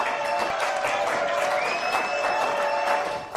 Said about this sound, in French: Applaudissements pour les invités